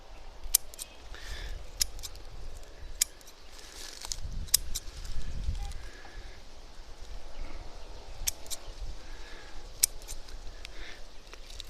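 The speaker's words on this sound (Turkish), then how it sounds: "Makasla beraber şu şekilde. Ben sonra toplarım. Kesiyoruz. Şöyle kesiyoruz." Scissors snip through stinging nettle stems outdoors, a series of sharp, close clicks spread irregularly over steady rustling and low background rumble.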